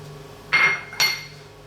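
Canned tuna dropped into a salad bowl gives two short clinking knocks of metal or utensil against the bowl, close and distinct, about half a second apart.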